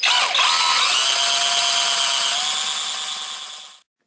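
A power drill with a 1/4 inch bit bores into a deer antler clamped in a vise: a loud, steady high-pitched whine holding for about four seconds, then cutting off abruptly.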